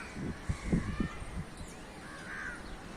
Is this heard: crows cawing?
yes